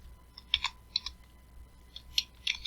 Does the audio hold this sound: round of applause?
no